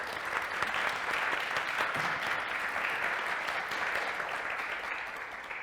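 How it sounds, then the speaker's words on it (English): A hall audience claps steadily for a panel at a Microsoft-hosted tech event, a dense, even patter of many hands that holds for several seconds before easing slightly at the end, with no talk over it. "Give them, please, a warm applause"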